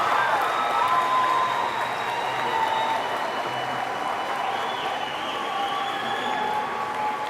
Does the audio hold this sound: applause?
yes